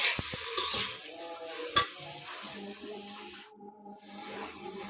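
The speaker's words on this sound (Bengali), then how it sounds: "এগুলো দিয়ে দিলাম এবার তেলের মধ্যে একটু অল্প সময় ভেজে নেব আমার টমেটোগুলো" Mango pieces and tomatoes fry briefly in oil, giving a low crackling sizzle with a few sharp clinks of a utensil against the pan near the start, close and quiet, with no talk.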